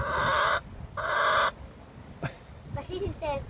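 A hen gives two loud drawn-out squawking clucks up close, followed by softer chattering clucks and quiet background noise.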